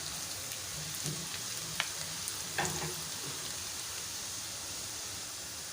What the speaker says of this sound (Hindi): अब देखिए बहुत अच्छे तरीके से अदरक लहसुन को हमने भून लिया है 1 मिनट तक।